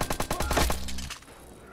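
Gunfire from a new handgun in the video game Watch Dogs: a quick run of close, sharp shots in fast rhythm, then a short ringing tail that dies away.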